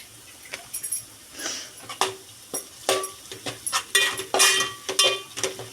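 Onions browned golden in a pan are stirred with turmeric, a spoon scraping and clinking against the metal in quick irregular strokes, close and fairly loud with short metallic knocks throughout.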